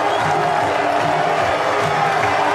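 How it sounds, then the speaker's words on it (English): Cricket stadium crowd roaring after a six by a 19-year-old batsman in a Bangladesh vs Australia match in 2005, a loud dense wash of cheering and whoops sustained throughout. "the crowd are going nuts here"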